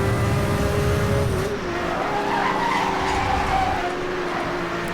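A car in Need for Speed: Hot Pursuit (2010) drifts sideways through a turn during a roadster race, with loud continuous engine roar and tyre squeal throughout and no talking.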